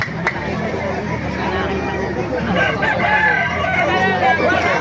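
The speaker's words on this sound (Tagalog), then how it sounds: "Maraming manok ngayon dito." Roosters crow loudly over a busy crowd of chickens clucking, with people murmuring in the background of a crowded poultry market in Bocaue.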